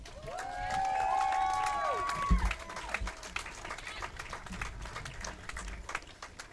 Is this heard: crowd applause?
yes